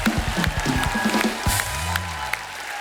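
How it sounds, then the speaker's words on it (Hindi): Crowd cheering and clapping for guests on a Hindi entertainment show, loud and continuous with whoops, strong low rhythmic beats early on and a swelling tone near the end. "एक बार जोरदार तालियां हमारे मेहमानों के लिए।"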